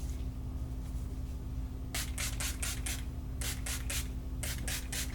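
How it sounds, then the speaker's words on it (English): Several short hissing bursts of Milani Make It Last makeup setting spray, a quick run of about five sprays, a pause, then another cluster, close up and fairly quiet. "to set everything, I'm just going to use the Milani Make It Last Makeup Setting Spray"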